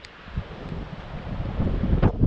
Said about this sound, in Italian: Se di nuovo alzato il vento fortissimo